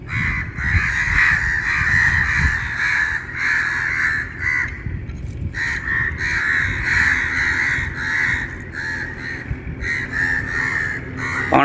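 Crows cawing close by in repeated loud harsh calls, several in overlapping bursts with brief gaps, over faint outdoor background noise.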